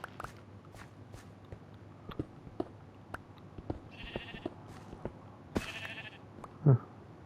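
Two faint sheep bleats from the Minecraft video game sound around light, regular footstep taps, all fairly quiet against a low background hum.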